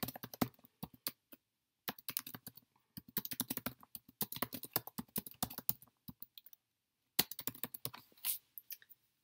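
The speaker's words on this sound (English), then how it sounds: "back to the typing test, I'm a quick typer" Quick bursts of typing on a computer keyboard, sharp crisp key clicks in rapid runs separated by short silent pauses, close and clear with no talking.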